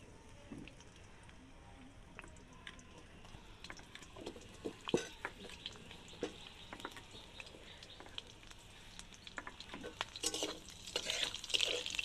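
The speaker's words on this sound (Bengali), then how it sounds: "কালো জিরে ফোড়ন নিয়ে একটু নেড়ে চেড়ে নেব।" Nigella seeds and slit green chillies are fried and stirred in a pan, with soft scraping strokes and faint crackles that grow busier and louder toward the end.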